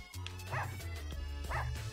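A cartoonish dog in the video game Russian Subway Dogs gives two short, bright barks about a second apart over a looping game music backdrop.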